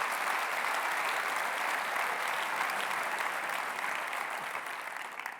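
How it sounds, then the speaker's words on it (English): A roomful of people at a corporate summit in Madrid applauding, a thick, continuous roar of clapping that holds steady throughout and fades slightly at the very end. "I think the room deserves a round of applause"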